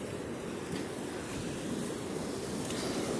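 Floodwater in a storm-swollen creek gushes with a steady, broadband roar that fills the whole stretch evenly, loud and continuous with no pauses, and no voices over it.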